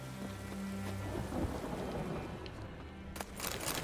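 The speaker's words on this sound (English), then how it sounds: "The storm, damn it." Thunderstorm in The Witcher 3 video game: steady heavy rain with low rolling thunder rumbling underneath, continuous and fairly full, with a sharper crackle near the end.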